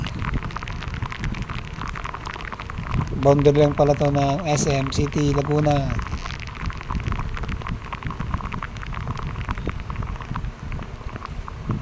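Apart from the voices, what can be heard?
heavy monsoon rain in San Jose, Cavite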